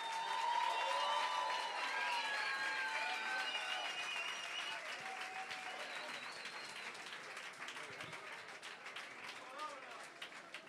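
A live concert audience gives a warm welcome to a band member with sustained clapping and some cheering, a steady crowd roar mixed with tonal voices or music early on that gradually thins out.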